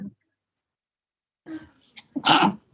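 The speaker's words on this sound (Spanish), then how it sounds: "Ya me estornudo." A single sharp sneeze bursts out after a short gasp and quiet pause, close and loud, in a classroom roll call with a brief voice just before.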